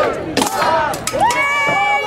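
Crowd at a medieval fair cheering and shouting, several near, excited voices rising and overlapping in bursts of whoops and calls.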